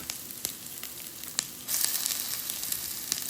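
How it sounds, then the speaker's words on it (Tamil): Onions sautéing in a pan for mutton rasam give a steady, quiet sizzle that swells louder partway through, with a few sharp clicks from the pan and no talk. "வெங்காயத்தை போட்டு வதங்க விடணும்"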